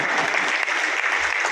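An audience at a Hindi comic poetry gathering claps steadily, a dense, even burst of applause close to the microphone with no gaps.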